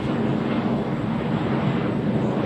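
Airplane passing low overhead beneath an airport flight path, a steady rumbling roar with wind-like hiss that stays loud and constant.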